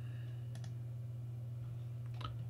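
A couple of faint, quick mouse clicks on a computer, set against a steady low electrical hum, with no talk.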